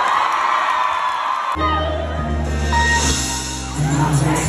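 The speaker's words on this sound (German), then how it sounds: "Ein dicken Applaus für Hamburg!" A concert audience in Hamburg cheers and whoops loudly in a dense, continuous roar, with sustained tones rising over the crowd after the first moment and the noise carrying on to the end.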